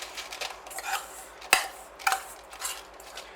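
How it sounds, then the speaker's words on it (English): Spoon scraping and clinking against a bowl while melted butter is mixed into biscuit crumbs for a pineapple cheesecake base, a few distinct knocks among softer stirring scrapes, close and fairly quiet. "Now we add it to the biscuit mix and we mix it through until all the biscuit is wet."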